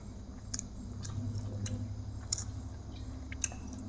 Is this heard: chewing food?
yes